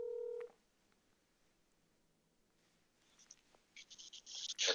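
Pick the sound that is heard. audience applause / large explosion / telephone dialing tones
telephone dialing tones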